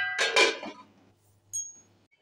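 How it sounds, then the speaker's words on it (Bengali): Potatoes boiling in salted water are stirred in a pot with a couple of brief scraping knocks, then a lid goes on with a single bright metallic clink, followed by quiet. "একটু নাড়িয়ে দিচ্ছি, নাড়িয়ে একটু ঢেকে দিচ্ছি"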